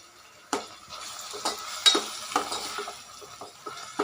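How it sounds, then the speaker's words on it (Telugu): Sliced onions with curry leaves and salt frying in oil in a pan for an egg curry, a steady sizzle broken by several sharp spatula clinks and stirring scrapes. "గోల్డెన్ బ్రౌన్ వచ్చే వరకు ఈ ఆనియన్స్ని బాగా ఫ్రై చేసుకోవాలి"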